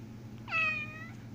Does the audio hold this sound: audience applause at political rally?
no